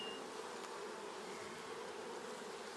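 Honeybees buzz steadily at an open hive during an inspection, a dense, even drone of many insects close by that holds at a low, constant level.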